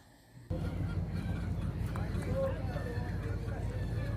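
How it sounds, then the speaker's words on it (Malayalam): Loud chicken calls ring out over a busy, noisy livestock market in Jeddah, with people talking nearby. "ഇത് എന്ത് കോഴിയെന്ന് അറിയില്ല"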